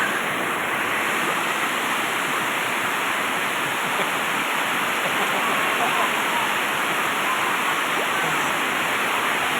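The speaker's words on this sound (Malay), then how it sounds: "Hujan deras disertai angin kencang." Heavy rain with strong wind pours down in a dense, continuous hiss and rush, steady and fairly close, with no break across the whole stretch.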